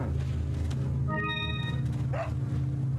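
A frightened dog in a video game gives a short high whimpering whine, with a brief squeaky yelp after it, over a steady low background hum.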